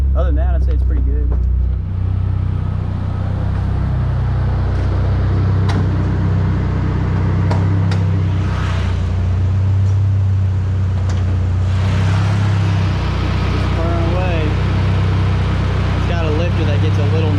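A Mitsubishi Eclipse GSX engine idles in a steady, low, continuous hum, a little noisy with low oil pressure after idling a long time, with a voice talking over it.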